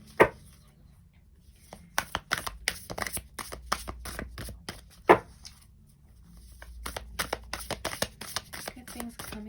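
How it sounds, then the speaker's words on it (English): Tarot cards shuffled by hand during a card reading, giving bursts of crisp riffling clicks and flutters in uneven clusters, close and moderately loud with quiet gaps between. "we're going to shuffle more cards and see what good things are coming into your life"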